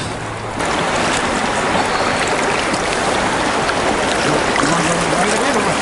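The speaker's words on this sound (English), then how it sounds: "A long stretch of rapids." A long stretch of river rapids rushes loudly and steadily, heard from a canoe on moving water, a continuous broadband roar with no speech over it.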